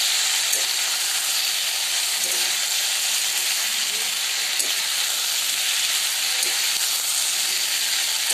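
A paste of cumin, turmeric and chilli powder mixed with water sizzles in a pan, making a steady, even frying hiss that runs without a break, while a voice talks quietly over it.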